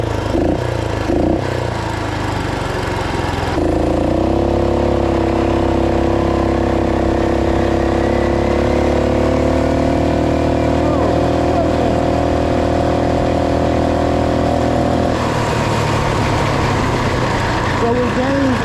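The engine of a two-wheel-drive Roko Ranger off-road motorbike roars loud and close at open throttle, a sustained droning buzz with steady pitch.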